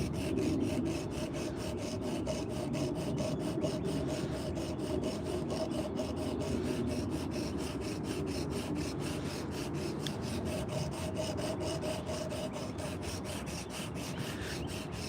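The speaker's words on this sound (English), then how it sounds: "Let's use our high-powered sander." A high-powered sander grinds a coffee scoop carved from fruit-tree wood, a continuous close abrasive rasp with a rapid regular pulsing that holds steady at an even loudness.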